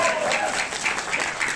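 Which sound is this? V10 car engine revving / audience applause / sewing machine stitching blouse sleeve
audience applause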